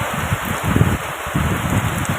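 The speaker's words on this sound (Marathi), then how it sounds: "आणि असा मागं पाऊस चालू झाला आहे" Heavy rain pours steadily in gusty wind over a cattle shed and doorway where water is pooling, a dense, close, continuous wash of drops with no one speaking.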